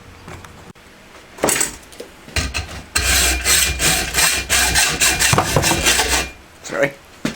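Wood being ground on a belt grinder, with a harsh rasping, rubbing roar that starts in short bursts and then runs continuously, close and loud, with scraping pauses and no talking.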